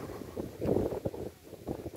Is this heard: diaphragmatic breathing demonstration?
no